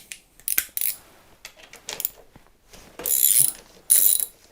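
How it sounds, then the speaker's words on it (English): A size 17 ratchet loosens a dirt bike front axle, giving close, crisp bursts of clicking pawl ratchets in short irregular runs, with louder sustained clicking near the end and no talking. "That's going to undo the axle."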